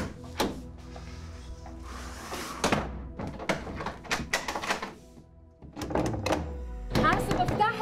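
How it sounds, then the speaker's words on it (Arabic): A door in a home shut and locked during a tense drama scene: several wooden thunks, clunks and latch clicks spread through the passage, mixed with shuffling and a voice in the background. "قفل الباب حازم على حالي"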